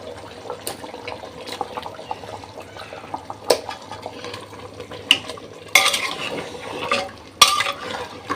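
Country chicken frying in a pan with garam masala, ginger paste, bay leaf, coriander, chili powder, cumin and garlic paste, stirred steadily with scraping and clinking of a utensil against the pan, growing louder with sharper bursts near the end.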